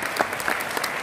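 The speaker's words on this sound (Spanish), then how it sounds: "un aplauso grande" Crowd applause at the Premios Graffiti 2020 awards ceremony, a short burst of dense, continuous clapping from an audience, heard alone without voices.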